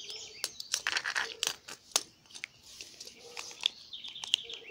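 Bird in a Yoshi platform game chirping in quick bright bursts, with scattered crisp clicks and rustling-like noises between the tweets, fairly faint.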